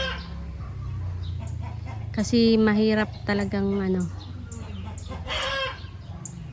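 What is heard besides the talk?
chickens clucking in the shade on a farm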